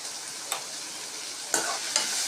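Onions frying in a pan for Maggi noodles with egg give a steady close sizzle, broken by a few sharp scrapes of stirring, with no talk.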